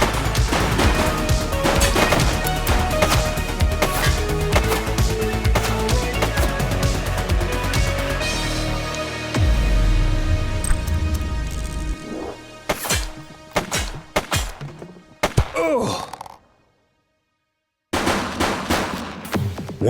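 Gunfire in the police action game The Precinct, loud rapid volleys of shots with crashing impacts over game music, thinning into scattered bursts and a brief silence before more shooting resumes.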